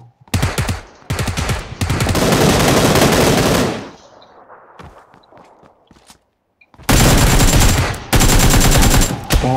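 Loud bursts of rapid automatic gunfire in PUBG Lite come in several long volleys, broken by a quieter stretch of faint footsteps and rustling.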